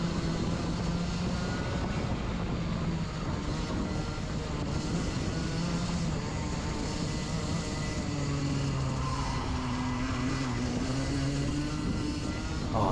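Race car engine in a restricted-class circuit race, heard from on board as the driver lifts off the throttle into a corner; a loud, continuous engine drone whose pitch sags and shifts across the clip.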